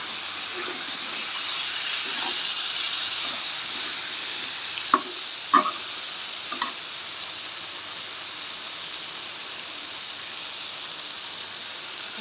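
A vegetable curry sizzling in a pan as salt is stirred in, a steady hiss broken by a few spoon knocks against the pan.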